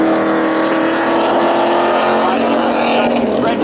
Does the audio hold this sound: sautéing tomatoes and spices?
no